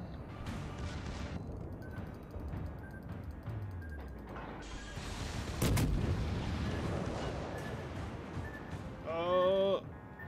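Big warship main guns booming in a World of Warships naval battle, a dense roar of heavy cannon fire with a sharp burst near the middle and another loud volley near the end.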